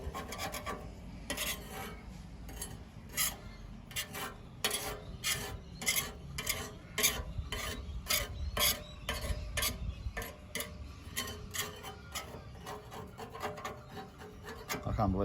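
Paint is scraped and rubbed off a motorcycle fuel tank down to bare metal. Quick, rhythmic rasping strokes repeat at close range for the whole stretch, with no voices over them.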